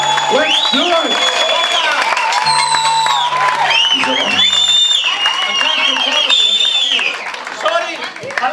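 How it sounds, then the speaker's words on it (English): A club audience at a comedy show breaks into a big round of applause, with cheers and whoops mixed into the steady clapping while voices carry over the crowd throughout. "Come on, let's hear a big round of applause"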